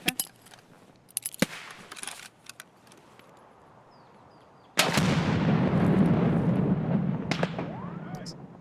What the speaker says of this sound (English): I'm gonna throw a nade toward the Connex as well.